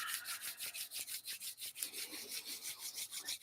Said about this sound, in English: And start to rub your palms together.